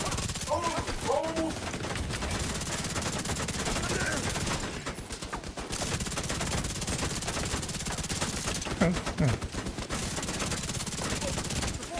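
Rapid, continuous gunfire from a video game as the player shoots at turrets and enemies, loud bursts running nearly the whole time with brief gaps, and speech mixed in.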